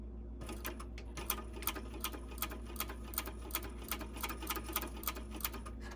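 A sewing machine top stitches a narrow seam on a small fabric pouch, a steady low motor hum with a fast, regular ticking of needle strokes running throughout at moderate, close range.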